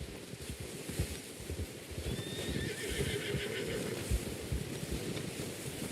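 A horse in the video game Red Dead Redemption 2 whinnies softly amid steady hoof clops and shuffling, with wind in the background.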